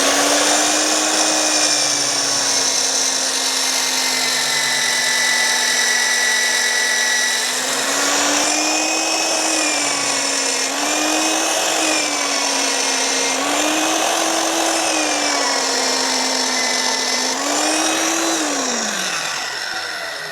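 A Vevor magnetic drill bores through half-inch thick steel, a loud continuous motor whine with a cutting grind, its pitch wavering under load before spinning down at the end, with no talk.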